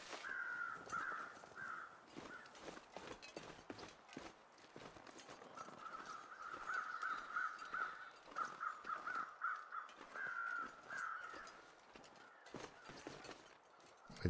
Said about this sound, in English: I don't know if these crows are just more excited, flapping their wings just a little harder